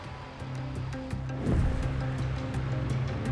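Heavy sea waves break on a South African beach, a loud rushing surge swelling midway over a steady rumbling wash, with a low engine-like drone running throughout.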